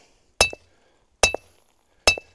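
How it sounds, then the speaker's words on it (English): A Village Drill Hybrid bores through sedimentary rock, giving three sharp metallic pings at an even, slow rhythm, each ringing briefly before quiet. "Then you have a sedimentary rock, which is a little harder, and you can hear a different tone to it."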